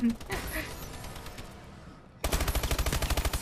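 A video game firearm fires in a fast burst of loud, evenly spaced shots after a short lull, with faint game noise before it.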